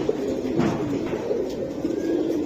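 Pigeons coo in a pigeon farm loft in Kamrangirchar, Dhaka, with soft, repeated throaty calls overlapping close by in a steady murmur.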